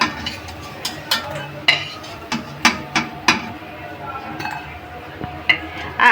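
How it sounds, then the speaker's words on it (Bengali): Cutlery clinks and taps against a pan as fried taro fritters are lifted out, sharp metallic knocks at an irregular pace over a low kitchen hiss. "এইবার আমি কচুরমুখীর বড়াগুলো তুলে দেব।"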